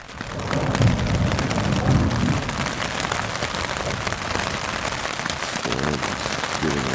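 Steady heavy rain pours on the roof of a trail shelter on the Appalachian Trail in the Roan Highlands at night as a storm moves overhead, a dense continuous hiss of drops with no voices.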